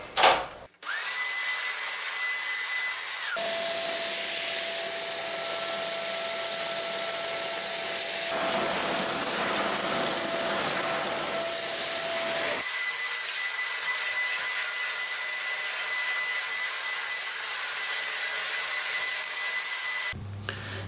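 A Xiaomi Deerma DX700 upright vacuum cleaner running over a long-pile carpet strewn with test debris, giving a loud, steady motor whine whose pitch shifts a few times as it works, with no talk.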